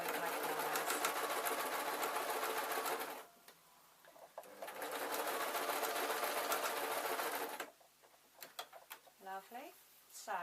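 A sewing machine stitching fabric for a small pin tray, two loud, fast runs of rattling stitching separated by a pause with quieter handling noises, then brief bursts and short mechanical whirs at the end.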